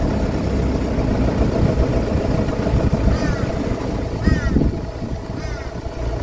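A diesel car with an automatic gearbox idles at auction with a steady low rumble close by. Faint chirps and background noise sit over the engine, and a voice speaks briefly.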